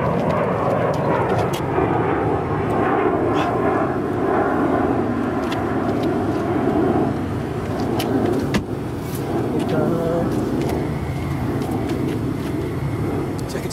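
A Cheerson CX20 quadcopter drone hums steadily in flight outdoors, a continuous buzzing drone of motors and propellers that stays fairly loud throughout as it descends quickly, with faint wind noise and occasional distant sounds mixed in.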